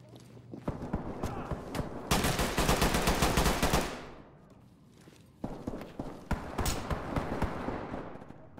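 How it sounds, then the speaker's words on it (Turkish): Gunfire in the tactical shooter game Ready or Not: scattered single shots, then a loud sustained automatic burst lasting about two seconds that tapers off, followed after a lull by further rapid volleys and sharp reports. "Bir yerden yine silah sesleri geliyor."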